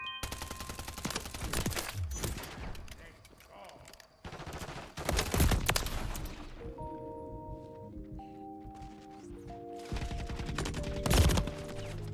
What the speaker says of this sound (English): I shot 4 bullets into his head.